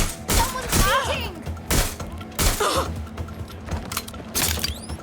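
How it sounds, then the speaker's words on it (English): Gunfire rings out in Watch Dogs: Legion as several loud, separate bursts of shots punch through, with scattered pauses, mechanical clatter and a voice gasping and speaking between them. "Someone's shooting!"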